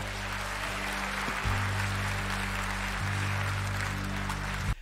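A church congregation claps together in a steady, sustained wave of applause that fills the room, with a low musical drone underneath.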